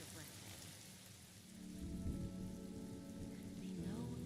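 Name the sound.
rain in video game Honkai: Star Rail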